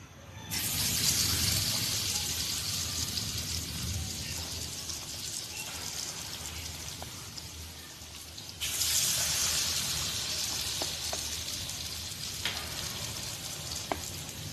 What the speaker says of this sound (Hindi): अब हम बल्लों को इसमें फ्राई करेंगे